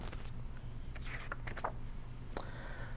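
Crickets chirp at night, a faint steady high trill under soft scattered clicks and rustling, quiet and continuous, with no voices.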